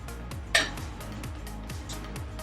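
A spoon stirring peanut butter vegetable soup in a pot, with soft repeated scraping strokes and one sharper metallic clink near the start, close and moderately quiet.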